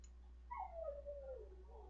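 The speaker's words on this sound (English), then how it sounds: "My dog is at the door and hears me talking and thinks something cool is going on in here." Dog whimpering at a door nearby, heard from inside the room: one faint, drawn-out whine that glides downward in pitch over about a second and a half, alone over quiet background hum.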